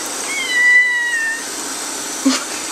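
A fluffy cat meows once, clear and fairly close, just after her first bath, with a drawn-out tonal call followed by a short faint sound near the end.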